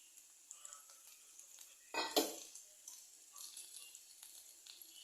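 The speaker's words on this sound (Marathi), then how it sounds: "व्यवस्थित मिक्स करून घ्यायचं." A spoon or spatula scrapes and clinks against a pan while potato samosa filling is stirred, with one louder clatter followed by softer scraping and tapping.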